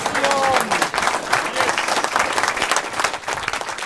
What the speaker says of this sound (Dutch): Hij werd hartelijk ontvangen met een groot applaus.